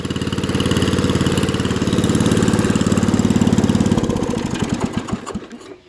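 A Wheel Horse Wheel-o-matic 875 hydrostatic riding lawnmower engine runs steady and close, with a rhythmic mid-pitched chug, then slows to distinct individual firing pulses and dies out near the end.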